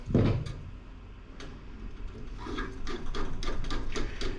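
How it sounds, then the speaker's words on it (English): Metal threads squeak in short, repeated bursts as parts of a Coleman camp stove are screwed together during cleaning. Faint, close-up scraping and ticking comes over a low background. "Squeaky threads."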